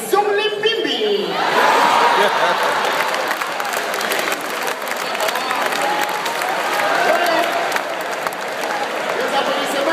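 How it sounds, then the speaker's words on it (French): An audience at a live show applauds in a continuous dense wash of clapping mixed with crowd noise, holding steady and fairly loud for the whole stretch, with a voice briefly audible at the start. "Les applaudissements là"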